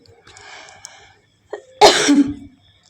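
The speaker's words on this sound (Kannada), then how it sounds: "ಕೆಮ್ಮು ಬಂತು ಹಂಗೆ ಹೊರಗೆ ಬಂತು" A single harsh, close cough bursts out after a brief faint murmur and a short vocal sound, then trails off.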